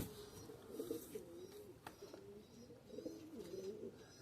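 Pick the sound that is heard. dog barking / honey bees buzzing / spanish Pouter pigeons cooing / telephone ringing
spanish Pouter pigeons cooing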